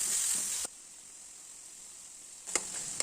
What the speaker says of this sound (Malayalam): ഒരു തക്കാളി ചെറുതായി അരിഞ്ഞതും ഇട്ട് വഴട്ടിയെടുക്കാം.